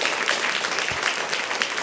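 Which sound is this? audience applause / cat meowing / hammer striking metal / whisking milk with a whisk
audience applause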